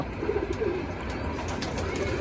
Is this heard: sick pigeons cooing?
yes